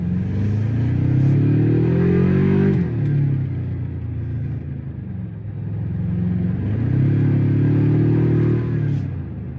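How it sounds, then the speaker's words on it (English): A Toyota Tacoma TRD Pro engine pulls loudly and up close while driving on the road, its rumbling tone rising through two long acceleration runs with a brief dip between them. "That's a good sounding engine."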